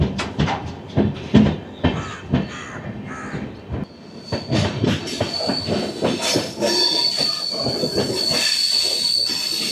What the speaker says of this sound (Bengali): আমাদের ট্রেন ছেড়ে দিল ঠাকুরগঞ্জ।